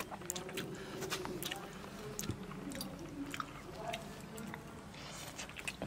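Wet chewing and biting at close range as someone eats fried duck egg with sea fish curry, steady mastication sounds with people talking over it.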